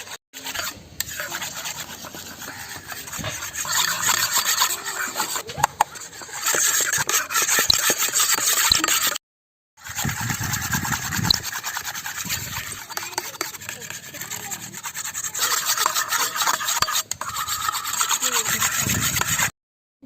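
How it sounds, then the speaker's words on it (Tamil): Butter beaten by hand in a bowl for homemade Oreo biscuits gives a rapid, continuous scraping and slapping rhythm close by, broken by two brief silent cuts. "வெண்ணெயை ஒரு அஞ்சு நிமிஷத்துக்கு நல்லா நம்ம வந்து அடித்து எடுத்துக்கணுங்க"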